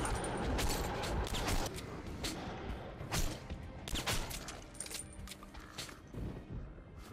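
Gunfire in the video game Metro Last Light comes in loud, close, rapid bursts, irregular volleys of sharp shots crowding together with scarcely a pause.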